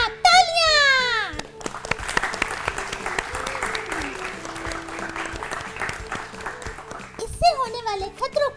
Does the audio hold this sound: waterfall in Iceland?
no